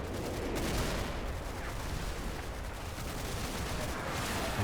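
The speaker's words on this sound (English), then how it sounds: "I'm going to take casualty from their tank heavy machine gun" A tank's heavy machine gun fires in Combat Mission: Battle for Normandy, a steady, dense rattle of distant-sounding automatic fire that runs unbroken and fairly quiet through the whole stretch.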